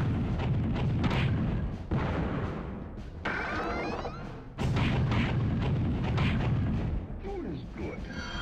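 Repeated booming blasts and crunchy explosions as barrels are destroyed in the Nintendo 64 game Gauntlet Legends, loud and dense, broken by brief dips, with game music and chirpy effects layered throughout.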